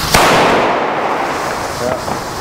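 German firecrackers from the Panda brand bang close and loud, with a sharp blast near the start and a second, softer pop about two seconds later, each followed by a fading rumble.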